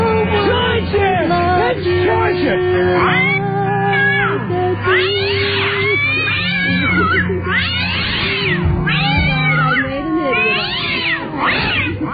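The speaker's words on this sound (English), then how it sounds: "You got cats back there?" Several cats meow and caterwaul in long, wavering, overlapping yowls, loud and close, continuing for the whole stretch with rising and falling cries.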